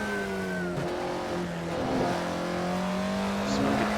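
An Alfa Romeo 33 Stradale in the Assetto Corsa racing game laps Laguna Seca, its engine note droning and swelling through gear changes, with hints of tire noise over a continuous, moderately loud run.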